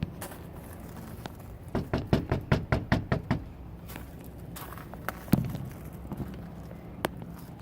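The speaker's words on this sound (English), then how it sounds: "Okay, next step, I'm gonna knock," A quick run of about nine sharp knocks on a house door lands in an even rhythm, close and distinct. A few isolated taps and thumps follow in an otherwise quiet room.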